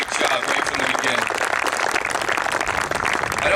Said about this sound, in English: Please give Art and Ray a round of applause, please